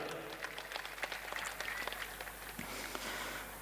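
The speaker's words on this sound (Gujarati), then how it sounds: "જોરદાર તાળીઓ" An audience at a village award ceremony claps in a short burst of scattered, moderately faint applause, individual claps audible over a low background murmur.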